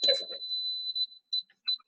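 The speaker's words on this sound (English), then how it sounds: "So it was just the alarm." An alarm beeps with a steady high electronic tone, then breaks into a few short separate beeps with gaps between them, fairly clear against near silence.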